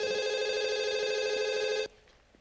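An old-style telephone rings in a TV drama scene, a loud continuous electronic bell tone that sounds alone and then abruptly stops, leaving quiet room tone.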